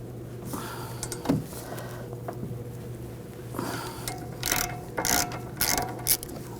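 A ratchet wrench with a 13mm socket loosening a bolt on an Audi S4 tie rod, with quiet clicking ratchet strokes and louder bursts of clicks and metal handling near the end.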